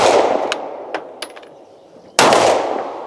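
A SIG P210 9mm pistol fires on a 25 m outdoor range during a Feldschiessen: one loud, sharp shot that rings out and fades, after fainter clicks and clanks.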